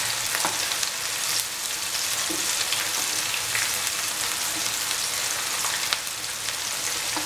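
Mutton keema meatballs frying in a pan as they are turned from side to side, giving a steady close sizzle with occasional soft scrapes and pops, and no talking.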